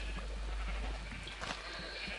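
Sheep on a sheep farm in a video game bleat a few times over a steady hum of background noise, fairly close and moderately loud.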